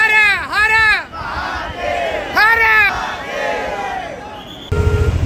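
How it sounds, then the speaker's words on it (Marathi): A dense crowd at the Omkareshwar pilgrimage site raises loud chanted shouts in repeated rising-and-falling bursts of many voices, with a murmur of crowd noise between them. "किती गर्दी. बापरे खूप गर्दी होती"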